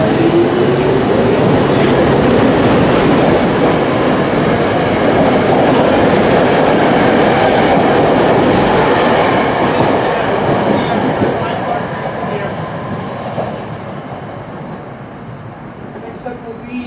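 A train rolls through Jenkintown station with a loud, close rumble and rail noise, then slowly fades as it moves away.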